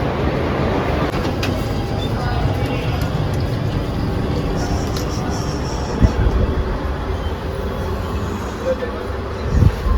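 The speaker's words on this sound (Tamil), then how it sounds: "ட்ரெயின் வந்துடுச்சு." A train arrives at a station in India, rumbling steadily nearby with a continuous low roar and faint squeals, with a couple of soft thuds toward the end.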